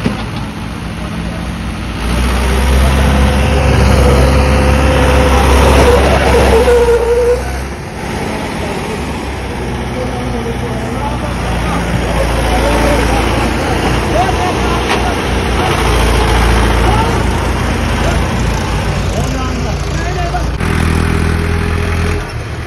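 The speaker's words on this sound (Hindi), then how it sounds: "Mahindra 575 DI XP plus." A Mahindra 575 DI XP Plus farm tractor engine runs with a continuous, fairly loud diesel rumble. The level shifts slightly as it works close by, with ambient noise around it.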